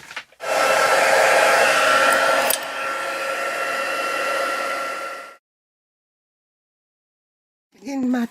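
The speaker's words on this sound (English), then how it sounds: "Heat set it." A heat gun sets white embossing powder on cardstock, a loud close steady blowing whoosh that steps down in strength partway through, then cuts off into silence before a voice speaks.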